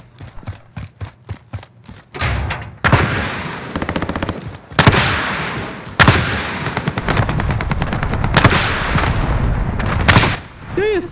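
Gunfire in Call of Duty Warzone: rapid bursts and single shots with booming blasts, fairly loud and continuous, mixing near and distant fire over about eleven seconds.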